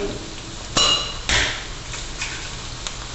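Eggs cracked open one after another into a mixing bowl for beating, giving a few sharp taps and clicks spaced across a few seconds, fairly close and clear with no talking.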